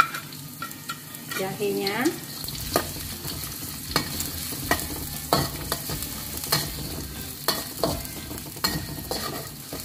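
Shallots and ginger sizzle in a pan of hot oil, with a steady frying hiss broken by repeated clacks and scrapes of a spatula stirring, and a brief word spoken early on.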